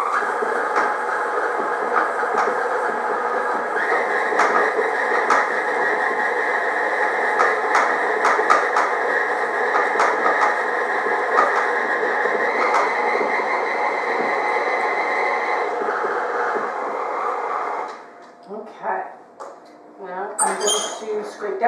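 An electric mixer creams butter and a cup of sugar in a steady, fairly loud mechanical whir that holds for most of the time, then stops, leaving handling clatter and brief talk.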